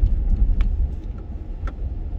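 A car drives around the back of Pearson Airport in Toronto, its engine and road noise a steady low rumble from inside the cabin, with a few faint ticks and knocks over the top.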